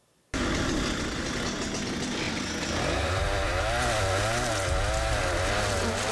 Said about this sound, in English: No, put down the chainsaw.